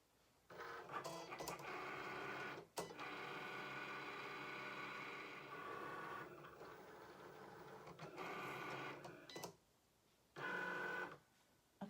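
A Cricut machine cuts vellum held down with tape, producing bursts of mechanical whirring and buzzing, broken by short pauses and a few clicks, then a final short burst.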